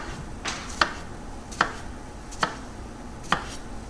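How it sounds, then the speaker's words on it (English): A knife makes vertical cuts through an onion on a cutting board: four crisp, evenly spaced chops about a second apart over a quiet background, with no talking. "Otherwise, I can just go ahead and do my vertical cuts."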